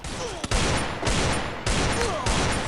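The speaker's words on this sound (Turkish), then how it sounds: "Gül Batur beni vurdu" Video game gunfire rattles out in loud, dense bursts of rapid shots, close and continuous across the short stretch with only brief gaps between volleys.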